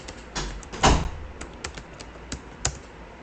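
Computer keyboard typing while writing presentation slides, a quiet irregular run of close key taps with one louder burst early on.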